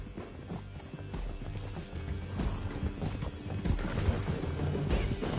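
Horse hooves gallop quickly in a video game, a fast dense patter under a busy mix of music and action noise, moderately loud throughout.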